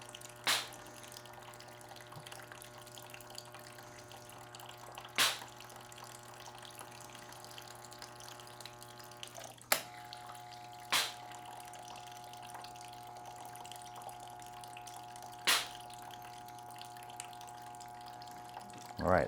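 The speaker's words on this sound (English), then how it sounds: "You can see it's starting to pour much clearer now." Sanitizer liquid pouring through a syrup line valve while the line is being cleaned: a steady, quiet trickle of flowing liquid with a few sharp clicks and drips spaced several seconds apart, and no talking.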